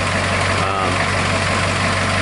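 A pickup truck with a rebuilt 6.9 diesel engine runs while towing a trailer carrying a Bronco, a loud, steady low drone with a constant hum and road rush, unbroken throughout.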